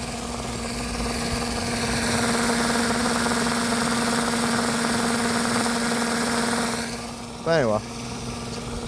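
A homemade hydroelectric generator spins with a steady, droning whir and a constant tonal hum, fairly close, while someone talks over it and briefly near the end.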